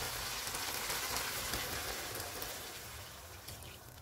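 Three and a half cups of water go into chicken masala frying in oil for pulao, giving a soft, steady hiss and sizzle like rain on a surface. The sound fades gradually over several seconds.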